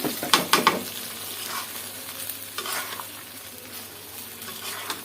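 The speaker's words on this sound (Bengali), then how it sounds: "বাস, সবজিটা ঢেলে দিলাম।" Green beans and potatoes hit hot oil seasoned with five-spice in a pan, giving a loud sizzle and scraping stirs at the start, then a steady softer frying hiss.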